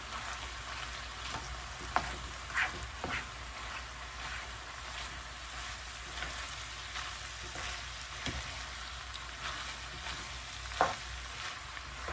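Ground beef and Italian sausage frying in a pan while being stirred, a steady low sizzle with occasional scraping and clinks of the utensil, close and fairly quiet, with no talking.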